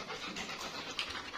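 A dog on a new farm pants close up in quick, steady, breathy huffs for a moment, with no voices.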